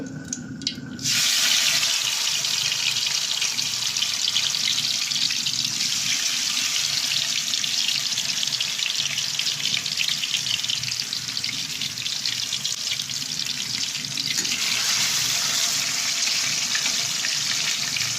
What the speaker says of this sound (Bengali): তেলটা গরম হলে তারপর মুরগিগুলো ঢেলে দেব, মুরগিগুলো ভাজবো